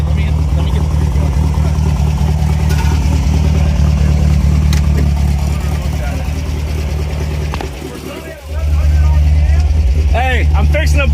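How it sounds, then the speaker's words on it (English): An MGB GT engine rumbling at idle through an upgraded exhaust, a loud, deep steady drone with a brief dip and blip near the end as the throttle is worked, close to the microphone. "Brad, hit that exhaust again."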